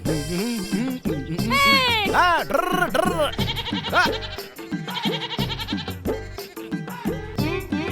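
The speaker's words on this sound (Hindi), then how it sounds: "तुम्हारी बकरी और मेरी बकरी मिक्सिंग" Goats bleat repeatedly at a rural morning pasture, with two herds mixing together; the wavering calls come close and loud, overlapping people talking.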